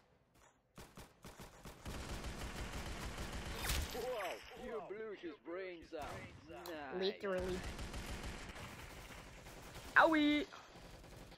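Rapid bursts of video game assault rifle fire from a banana-shaped gun in Roblox Arsenal free-for-all, crackling and fast in uneven volleys mixed with game effects, while a player talks and yelps over it.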